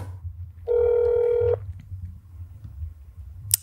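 A phone in the video game That's Not My Neighbor plays a steady electronic dial tone for about a second. It is followed by quiet low room noise and a faint beep at the very end.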